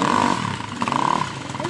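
A motorcycle engine revving and gaining speed while its wheel digs through deep sand, a short buzzing, rising rev at moderate distance, with voices around it.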